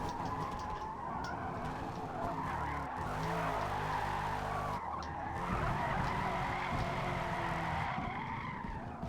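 Tires skid and squeal as a C8 car drifts through rain in a racing video game, a sustained screech with engine drone that dips briefly and then surges again.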